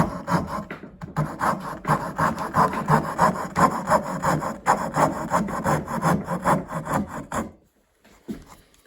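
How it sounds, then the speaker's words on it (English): A hand saw cuts wood for a dovetail joint, loud rhythmic back-and-forth rasping strokes close by for about seven seconds before stopping. "And then saw the other way into the line."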